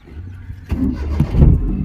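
A car engine cranks and catches partway through, then runs at a steady idle, close and fairly loud, as a driving lesson begins.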